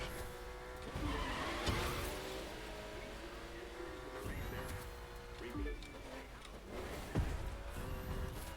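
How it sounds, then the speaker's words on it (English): A Porsche engine in The Crew 2 racing game revs and drones through a run, with tire squeals and skids rising over it while someone talks excitedly over the game sound. "Listen to the engine."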